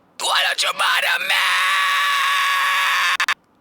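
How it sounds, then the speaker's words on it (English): A loud, close layered vocal scream combining two pitches, broken into a few harsh bursts at first, then held as one long, thick high-pitched shriek before cutting off. "there's like a lower pitched but still pretty high scream"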